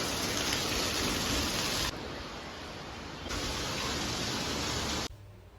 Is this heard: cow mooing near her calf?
no